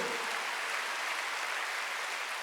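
A church congregation claps together during a sermon, a dense, steady wash of applause that holds evenly for a couple of seconds, fairly distant and with no voices on top.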